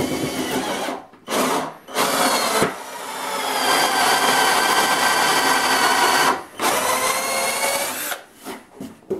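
A plug cutter in a power drill boring wooden plugs out of a board, a loud, close, steady whirring grind in several long bursts separated by short pauses.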